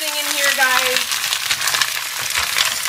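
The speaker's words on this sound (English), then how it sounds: "Hear that sizzle." Garlic and other ingredients sizzle and fry in a pan during a live Thai cooking class, a steady bright crackling hiss with faint tonal squeaks early on and occasional stirring noises, without speech.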